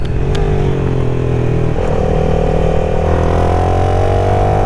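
A CFMOTO 300SS motorcycle engine pulls steadily through the revs from close range, its pitch climbing while the bike is ridden, with a brief dip partway through as it shifts, loud and with no talking.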